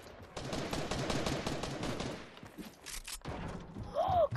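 Rapid video-game gunfire from Fortnite, dense bursts of shots through the first two seconds, then a brief lull and more firing, loud and continuous with game effects.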